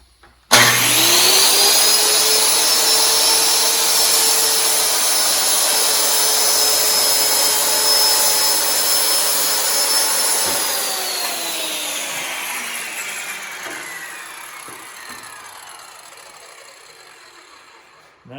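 A power saw spins up and cuts through wood for a pinewood derby track with the guard held open, a loud, close, sustained whine that drops in pitch and winds down after the cut.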